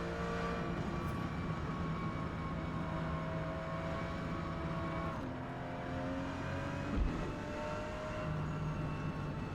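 Porsche GT2 race car engine in Forza Motorsport, S class at Maple Valley, droning steadily with a held pitch that drops at a gear change midway, then rises again as it accelerates.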